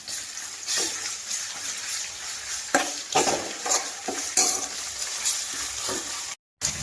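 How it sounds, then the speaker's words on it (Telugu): Ginger garlic paste fries with onion and green chillies in a pan, a steady sizzle broken by scraping stirs of a spoon against metal, close and fairly loud, with a brief dropout near the end. "అల్లం వెల్లుల్లి పేస్ట్ పచ్చివాసన పోయిందాక వేగిందండి"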